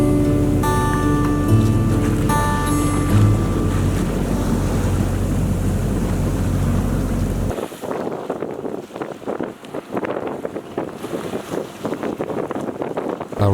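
A sailboat cuts through sea waves on a crossing from Denmark to Sweden, with steady rushing water and wind buffeting the microphone, loud and continuous throughout.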